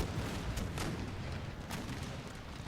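Cannons firing canister shot in a large Empire: Total War battle, a dense rumbling barrage of booms with a few sharper reports standing out, loud and continuous with no talk.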